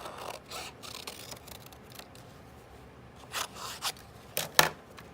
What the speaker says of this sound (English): I'm gonna cut out my shape.